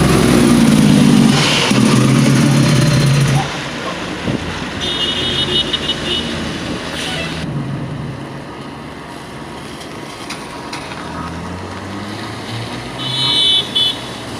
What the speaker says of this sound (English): And a bus stopping here, middle of the road actually, let out passengers